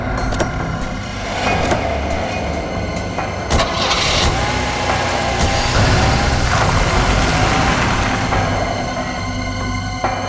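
A car engine cranks and catches, then settles into a steady idle with a slight rev, loud and close, with no talking.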